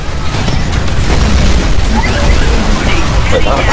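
A Titan in Titanfall detonates its nuclear self-destruct, giving dense, loud, rumbling booms and crackling blasts that fill the moment, with voices talking over the chaos.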